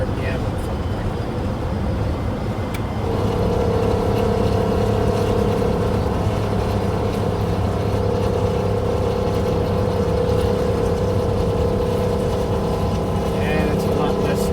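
The engine of a 1962 GM 4106 bus conversion rolls up to about 2200 RPM in second gear on a road trip: a loud, continuous droning rumble whose pitch steps up after a few seconds and then holds steady.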